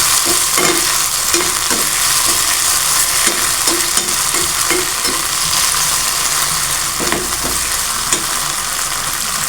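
Poduthalai leaves being stirred and sautéed in a hot pan for kuzhambu, a steady close sizzle with repeated scraping stir strokes throughout.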